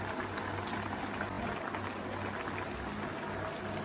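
Water with eggs in a cooking pot boils hard, giving a close, continuous bubbling and churning that stays steady and fairly quiet throughout.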